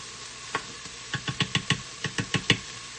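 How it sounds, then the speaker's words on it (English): A spoon stirs red lentil and spinach soup in a quick cooker pot, giving a run of about a dozen quick, close knocks and scrapes with a faint sizzle behind, and no voices. "So, I just want to stir this a little bit."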